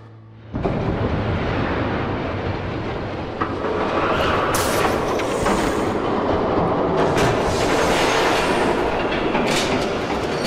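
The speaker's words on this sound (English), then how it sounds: "There's a train coming." A train passing in the video game Batman: The Telltale Series, a sudden loud rumbling roar with rhythmic clattering that holds steady and close for about ten seconds with no talk.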